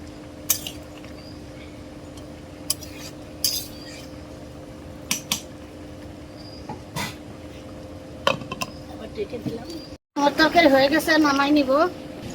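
A metal spoon stirring gourd and fish curry in a cooking pot: sparse, sharp clinks and scrapes against the pot over a steady hum, followed by a brief louder burst of clattering near the end.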